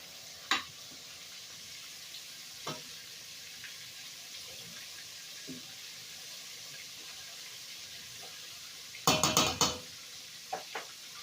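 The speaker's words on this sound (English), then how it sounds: "you can start moving them around so they fry all over." Chicken gizzards coated in flour fry in a pan under a steady sizzle, marked by a few sharp knocks and one burst of clattering scraping as they are moved around, close by and without talk.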